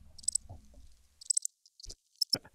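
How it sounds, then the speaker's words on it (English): Short bursts of cricket chirps come in sparse, quiet pulses separated by near silence, with a faint low thump or two. "The crickets. You hear the crickets."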